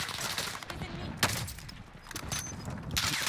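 Scattered gunfire in the Warzone video game, a few sharp cracks, the loudest near 1.2 seconds, over a dense noisy background of game ambience.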